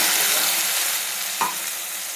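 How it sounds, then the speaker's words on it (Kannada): A thick blended tomato paste sizzles steadily in a hot pan for rasam, a dense close frying hiss with a brief scrape of stirring midway. "ಇದು ಚೆನ್ನಾಗಿ ಫ್ರೈ ಆಗಬೇಕು."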